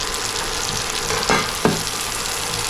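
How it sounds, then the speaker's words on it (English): Onion, garlic and asparagus tips stir-fry in a pan, a dense steady sizzle broken by a couple of sharp scrapes and clacks from stirring, close and alone. "If I keep stirring it like a stir fry, it shouldn't overcook it."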